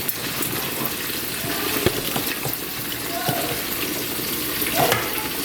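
Steady close frying sizzle in a skillet of vegetable oil on medium-high heat, dotted with a few sharp clinks and scrapes.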